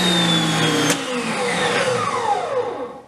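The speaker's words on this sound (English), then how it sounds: "Let's fire it up." A Karcher K1700 Cube 1700 psi, 1.2 gpm electric pressure washer starting up, loud motor whine that begins strong then gradually falls in pitch and fades, heard alone.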